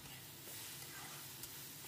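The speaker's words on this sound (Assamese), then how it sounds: "নৰসিংহৰ পাতখিনি দি এইখিনি মই পুনৰ লৰাই লৰাই মজি যোৱালৈকে ভাজি ল'লোঁ" Pumpkin pieces and a handful of curry leaves stir-fry in a pan with a soft, steady sizzle and scraping stirs, heard up close and quiet throughout.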